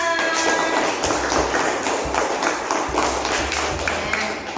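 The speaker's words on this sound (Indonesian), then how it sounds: "Kita tepuk tangan bersama" A class of children claps hands together in a classroom, a dense run of clapping that fills the whole stretch without talk.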